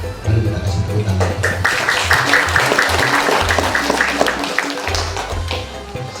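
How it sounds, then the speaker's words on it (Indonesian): Applause from a congregation at a church service, a loud, dense clatter of clapping running through the whole stretch, with music or voices sounding beneath it. "Mari kita kasih tepuk tangan."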